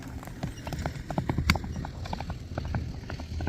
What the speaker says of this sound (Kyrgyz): Чаап көрсөтпөйлүбү